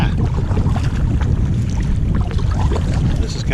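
Strong wind roaring steadily across the microphone out on the water from a 12-foot kayak, a loud, dense, unbroken rumble throughout with no clear speech.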